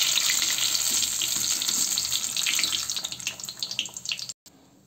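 Tomato pakoras are lifted out of hot frying oil with a steady, bright sizzle and crackle throughout, which breaks into uneven bursts before cutting off abruptly near the end.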